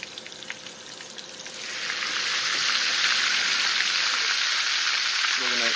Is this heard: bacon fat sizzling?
yes